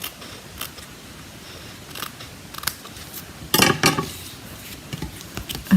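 Scissors trim a paper card craft piece, giving a few quick dry snips with light rustling between them and one louder cluster of cuts near the middle, close and with no voices.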